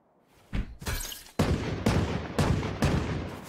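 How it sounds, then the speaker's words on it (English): A swarm grenade in Valorant going off as a series of sharp, crackling bursts that follow one another roughly every half second after a quiet start, each close and punchy, with a rough rumbling tail. "Placing swarm grenade."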